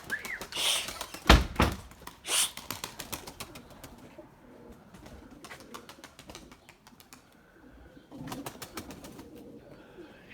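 Pigeons in a coop, with loud wing claps and flaps early on, then soft intermittent cooing and rustling, a few thumps, and another burst of fluttering near the end.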